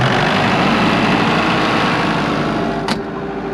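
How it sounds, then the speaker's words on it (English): A loud irrigation pump engine on a farm idles steadily with a constant low rumble close by, and a brief sharp click near the end. "it's just a matter of turning on the engine first."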